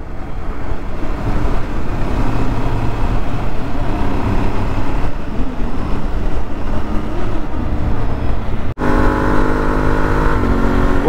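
A Honda CBR motorcycle climbs a mountain road toward the Mont Blanc, its engine roaring loudly and continuously with heavy wind rush, the pitch shifting briefly near the end.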